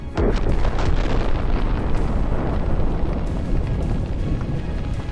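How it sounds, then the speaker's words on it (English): Two burning Solntsepek rocket launchers explode, a loud blast at the start followed by a constant heavy roar and crackle that fades slightly toward the end. "Two Solntsepeks are burning in their own fire at the same time."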